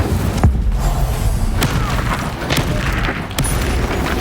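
Incendio fire spell cast in Hogwarts Legacy, a burst of booming, thudding impacts and crackling blasts over constant game ambience, with no talk.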